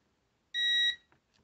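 A single short electronic continuity beep from a multimeter while testing a faulty LG TV, steady and high-pitched, lasting under half a second in an otherwise quiet moment.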